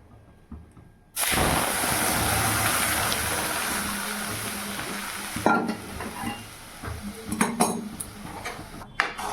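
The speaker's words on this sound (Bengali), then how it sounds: "তো ডাল ফোড়ন দিয়ে দিলাম" Spices hit hot oil for tempering dal: a sudden loud sizzle bursts in and holds steady, then eases into crackling with light clinks of a utensil against the pot.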